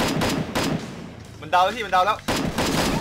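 Bursts of gunfire from the Free Fire video game crackle repeatedly among loud, excited voices talking over the shots.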